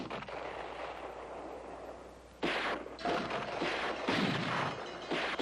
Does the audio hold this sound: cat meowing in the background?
no